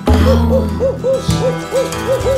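An owl hooting in the woods, a rapid series of short, rising-and-falling hoots, loud and close against a low background hum.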